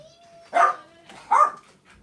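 Two sharp dog barks about a second apart, close by, over a faint whine in a quiet indoor room.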